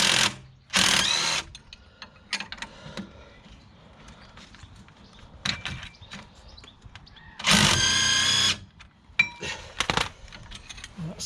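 A small impact wrench undoes the 18mm knuckle bolts on a Citroen C4 Grand Picasso's front suspension: two loud, close bursts of buzzing hammering, with quieter mechanical handling noises, clinks and rattles in the gaps between them.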